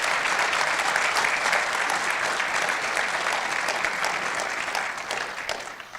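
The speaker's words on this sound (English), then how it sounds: "If you could give them a round of applause" Dense, steady applause from a conference audience at a fireside chat event, loud and sustained before tapering off slightly at the end, with no voices over it.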